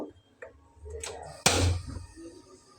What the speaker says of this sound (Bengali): এখন আমি চুলাটাকে অন করব।